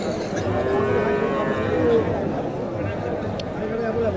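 Friesian bulls low and moo repeatedly at a busy cattle market, deep bellows carrying over a steady murmur of background noise.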